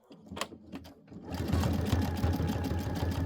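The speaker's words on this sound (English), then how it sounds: "Foot down, and let's sew it." A home sewing machine stitches through fabric, its motor starting after a few faint taps and running as a steady, loud, close whirring hum through the second half.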